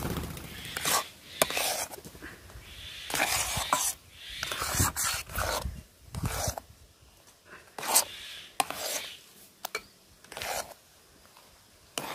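Semolina being stirred in a pan with a pinch of salt added, giving irregular scraping and rubbing strokes of utensil against the pan, moderately close and fairly soft.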